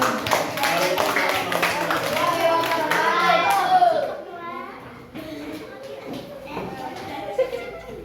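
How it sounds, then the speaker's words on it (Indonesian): Children applaud in a classroom, a dense patter of small hands mixed with excited young voices and chatter, loudest in the first half and thinning to scattered noise afterward. "Kasih tepuk tangan"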